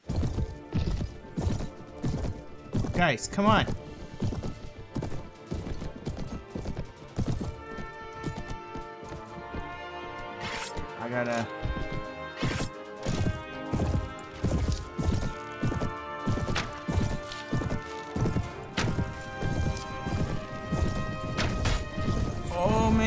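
Enemy cavalry in Mount and Blade Warband's Prophesy of Pendor mod gallops in steady clip-clop hoofbeats amid battle crashes, thwacks and occasional whinnies, continuous and close, with someone briefly shouting over it.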